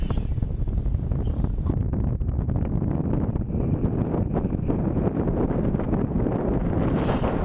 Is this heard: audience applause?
no